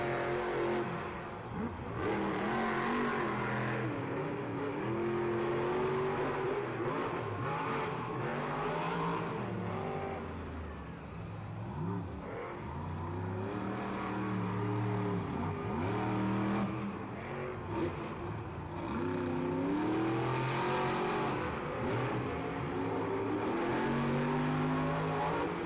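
Monster trucks race side by side on an arena track at Monster Jam in Atlanta, their big engines roaring and revving continuously at full throttle, loud and sustained with rising and falling pitch as they accelerate.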